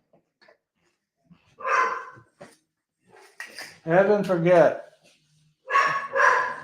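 A pet dog barks at home in several bursts, some close and loud with a few whimpering yips between, while a person talks in between the barks.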